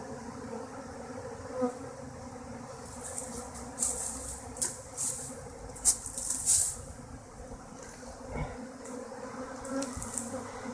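A swarm of honeybees hums around a flower pot near a hive in March, a steady close buzz of many wings with louder passes as single bees fly near.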